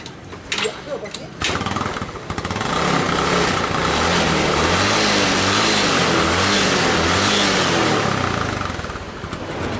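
A Yamaha Mio Sporty scooter, repaired after a burnt piston, starts up loud and close, then settles into a steady, rough idle with a throbbing pulse. Voices talk briefly at the start.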